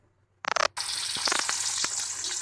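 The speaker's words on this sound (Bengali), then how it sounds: "আমি একটু ভেজে নেব হালকা করে" Salted paneer pieces frying lightly in hot oil in a wok: a brief burst of crackling as they go in, then a steady close sizzle with small pops.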